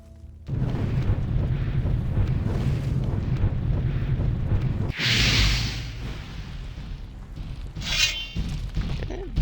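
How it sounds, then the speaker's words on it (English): A large firestorm spell in Gothic 2 roars up with a sustained rumbling blaze, then a sharp crack and bright burst, followed by a second flaring whoosh as the fire dies down. "Let's use a large firestorm, I guess."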